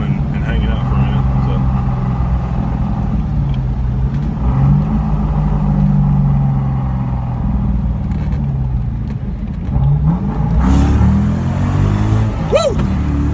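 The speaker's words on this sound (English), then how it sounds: "I'm gonna hammer down on it here in just a minute." A '96 Ford Mustang Cobra with freshly fitted Ford Racing spark plug wires rumbles loudly and revs up and down near the mic, while someone talks over the engine.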